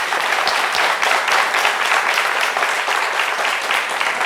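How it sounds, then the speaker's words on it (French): Loud, dense audience applause at a lively live midday show, steady hand clapping filling the whole stretch with no voices over it. "Merci de les applaudir très fort."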